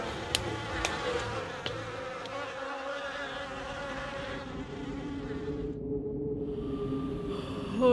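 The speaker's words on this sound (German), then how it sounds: "Zu viele Mücken." A steady, close insect buzz carries on for several seconds like mosquitoes or flies near the ear, with a few sharp clicks early on and a sudden drop near the end.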